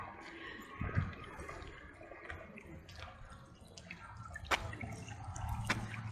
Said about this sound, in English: And then here at the end, it's got a waterfall.